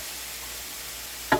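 Vegetables cook in a pan in an Asian-style stir-fry, giving a steady close hiss of frying with a short knock or clatter near the end.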